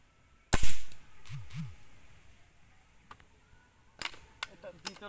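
An SDB Sniper Nitro air rifle fires at a target 75 feet (25 metres) away, making one sharp, loud crack. Fainter clicks and a short burst of voice follow.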